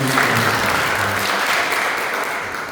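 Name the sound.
audience applause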